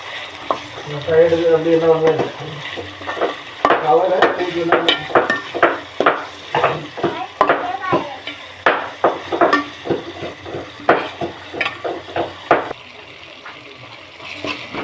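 Tomatoes fry in a pan for egg kurma, a soft sizzle under repeated scraping and tapping of a spoon stirring, close up, with a brief voice at the start.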